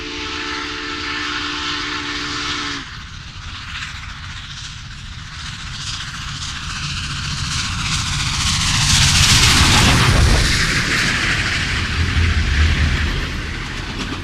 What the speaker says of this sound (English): The diesel locomotive behind number 844 was SD70 ACE, number 1989.